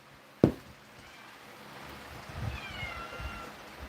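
A cat in a video game gives a few faint, drawn-out meows over a low ambient hum, preceded by a single sharp knock.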